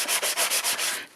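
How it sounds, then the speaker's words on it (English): A sanding block rubs back the shiny printed side of sturdy cardboard cut from a soap powder box, making rhythmic back-and-forth scratchy strokes, about six close, loud passes with no talk. "Once I've sanded it back"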